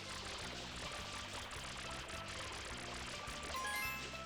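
Water spraying from FLUDD in Super Mario Sunshine, a steady rushing pour at low volume over a pulsing, repeating game music loop.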